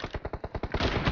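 Rapid, evenly spaced gunshots from the M24 rifle in the PUBG Mobile video game, about eight or nine crisp reports in just over a second that blur into a denser volley at the end, loud and close, with no speech.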